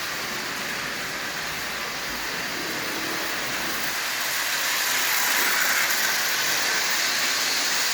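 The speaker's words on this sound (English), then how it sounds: "that engine is running really well. And it's running at an absolutely constant speed all the way around the track" A small Marx toy train engine hums and hisses steadily as it circles the track at constant speed, a constant mechanical whir growing slightly louder toward the end.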